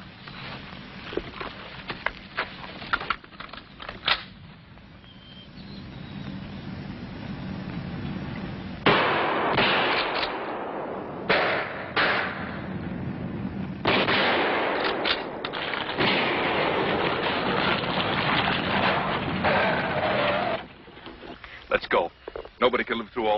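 Shotgun buckshot fired in a radio drama: a dense run of sharp, loud blasts and cracks in irregular bursts, with voices before and after.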